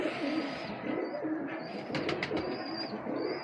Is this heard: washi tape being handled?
no